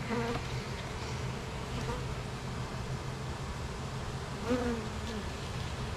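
Honey bees swarm around an open hive box, giving a continuous low buzzing hum with faint passes of individual bees drifting close now and then, steady and fairly quiet throughout.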